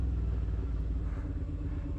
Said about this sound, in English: you listen to that Delcovic exhaust